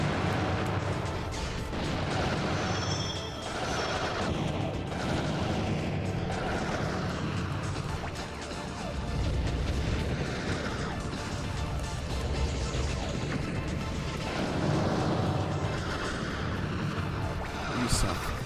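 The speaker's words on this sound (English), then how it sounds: "So many explosions." Continuous rumbling explosions and blasts from the robot battle video game Custom Robo fill the clip, a dense, loud barrage with game effects layered under a person talking.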